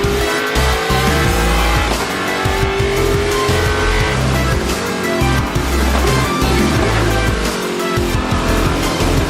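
Loud onboard race car engine roaring continuously, revs rising and dropping through gear changes, close and dominant throughout.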